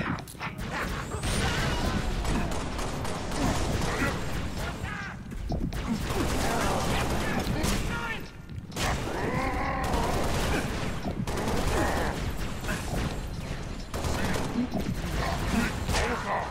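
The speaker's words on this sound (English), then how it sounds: "Oh, I hear shooting." Halo Reach battle with dense bursts of gunfire and mechanical clatter running almost continuously, loud and layered with crashing impacts throughout.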